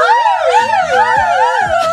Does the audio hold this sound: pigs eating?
no